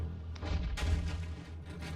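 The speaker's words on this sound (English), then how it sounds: "that PNG explosion was terrible" A cartoon explosion effect from the Transformers Prime animated series bursts in a series of deep booms and thumps, the loudest blast in the middle, with no talk over it.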